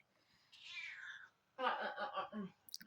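Two cats meowing in a kitchen where strudel with cocoa and cinnamon is being baked: one drawn-out meow first, then a louder, choppy run of rising and falling meows close by, with no talk.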